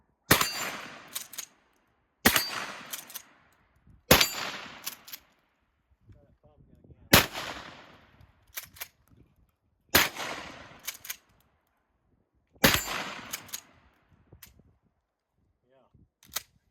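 Loud blasts from a Mossberg 590-A1 12-gauge pump shotgun firing double-aught buckshot ring out roughly every two seconds, each followed by a brief clatter, with quieter pauses and some faint voices in between.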